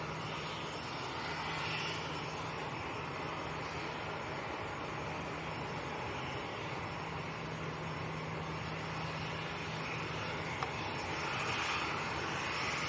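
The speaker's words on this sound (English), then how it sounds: "And it was Ryanair from Marrakesh that just landed." A Ryanair passenger plane landing at Manchester Airport, heard as a steady, continuous roar of aircraft engines that stays loud and even throughout, with no talking.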